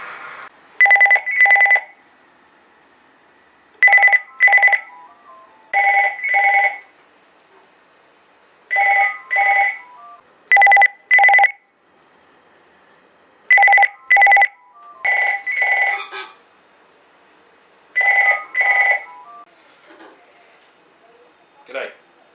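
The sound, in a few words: telephone ringing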